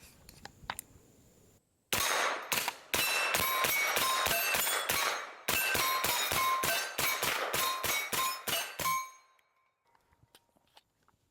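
A suppressed GForce Jawbone AR-9 pistol-caliber carbine fires 124 grain rounds at about 30 yards, a rapid string of roughly eighteen sharp, ringing reports with a brief pause midway, loud and close.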